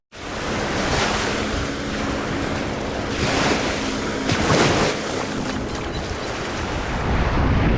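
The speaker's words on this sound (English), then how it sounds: "we're right here on the beach right away" Ocean surf rolls onto Sunny Isles Beach in Miami in a loud, steady wash of breaking waves, with gusts of wind buffeting the microphone.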